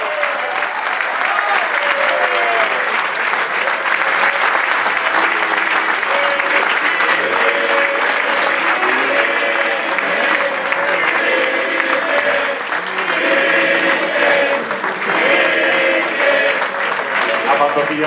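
Loud, sustained crowd applause at an award ceremony for the Pantortilla de Oro y Flor de Nieve in Reinosa, with a presenter speaking over the clapping in bursts throughout.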